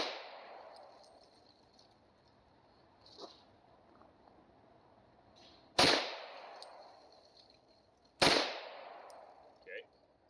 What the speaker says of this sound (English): So, first shots, TH40.